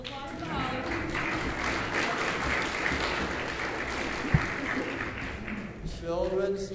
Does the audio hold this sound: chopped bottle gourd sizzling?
no